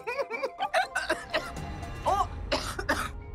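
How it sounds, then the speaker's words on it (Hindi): Several short, harsh coughs and throat-clearing bursts come in quick succession, close and fairly loud, mixed with brief laugh-like exhalations. "आपको देख के मुझे भी खांसी आ गई,"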